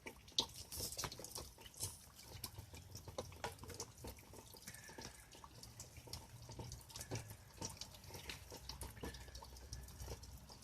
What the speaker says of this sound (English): There you can see the water flowing.